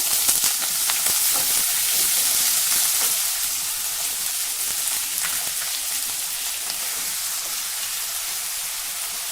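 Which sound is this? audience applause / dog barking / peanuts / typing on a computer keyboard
peanuts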